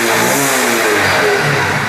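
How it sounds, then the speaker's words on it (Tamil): A Honda SP Shine 125 motorcycle engine running loud and close, its note rising and falling as it revs steadily for a couple of seconds. "ஒரே சின்ன செல் போட்டு வண்டி ஸ்டார்ட் ஆகிடுச்சு."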